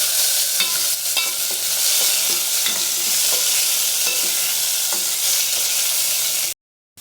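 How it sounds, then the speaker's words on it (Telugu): Par-boiled ivy gourd pieces fry in a hot tempering, a steady close sizzle with a spoon stirring and scraping the pan in irregular taps, then sudden silence at the end. "ఈ పోపు పెట్టిన వాటిలో దొండకాయలు వేయించుకోవాలి."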